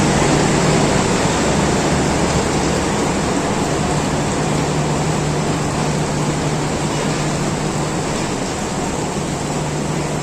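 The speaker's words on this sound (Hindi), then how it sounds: "रात से बारिश हो रही है" Heavy rain pours at Rawalpindi railway station, a dense, unbroken hiss that stays loud and even from start to finish, with no voices.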